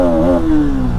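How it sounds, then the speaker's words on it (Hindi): Bajaj Pulsar NS200 BS6 motorcycle engine revved with the clutch pulled in, a loud close single-cylinder burst whose pitch rises briefly then falls back toward idle. "एक बार क्लच दबा के रेव करके देखते हैं।"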